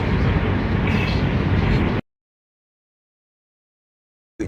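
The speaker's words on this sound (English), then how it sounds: "train horn." A train horn fitted to a Toyota Prius blasts loud and close for about two seconds, then cuts to silence before a second blast begins right at the end.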